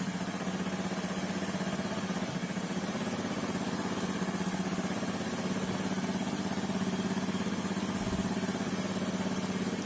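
A motorcycle engine idles steadily during a charging-system check of the regulator rectifier and stator, a constant mid-pitched running drone with no talking.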